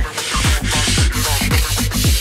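A wood part gets its final sanding by hand, with rapid rhythmic back-and-forth rubbing strokes, loud and close, repeating roughly every quarter second.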